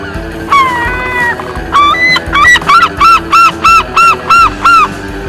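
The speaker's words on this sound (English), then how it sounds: "Starting of course with the notorious herring gull." Herring gull calling, the grey-winged coastal seagull: a long series of loud, close, repeated nasal calls, first a few drawn-out wails, then a rapid rhythmic run of about ten sharp yelping notes.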